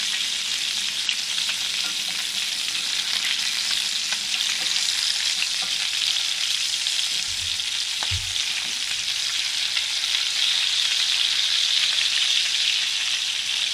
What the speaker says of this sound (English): And the meatballs are cooking on about a medium heat.